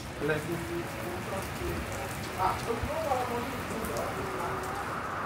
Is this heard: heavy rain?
yes